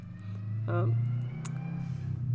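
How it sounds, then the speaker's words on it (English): A car engine hums and swells as it passes nearby, a low rumbling drone rising then easing off. "There's a car. Feel free to listen to that. Vroom, vroom."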